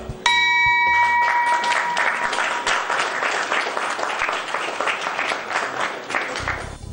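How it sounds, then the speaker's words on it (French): A stock exchange bell rings for the first listing of Coris Bank International shares, its sustained metallic tone opening the clip, then swallowed by loud, continuous applause and cheering from a crowd on the trading floor. "La traditionnelle cloche d'entrée en bourse retentit sous des acclamations."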